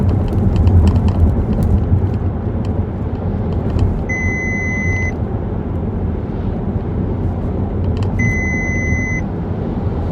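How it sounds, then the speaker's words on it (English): Two loud driver-assist warning bongs from a 2018 Volkswagen Tiguan R-Line sound a few seconds apart, each a sustained electronic tone lasting about a second, over steady road and engine noise inside the cabin. "we'll get another bong, a little bit louder"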